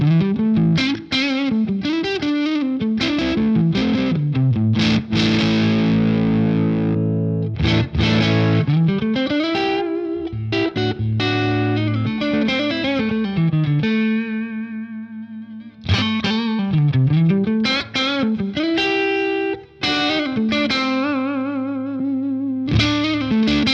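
An electric guitar on a single-coil pickup through a BOSS Katana amp on its pushed amp setting with slightly raised gain, playing sustained chords and bends, loud and continuous with a short break, no voices.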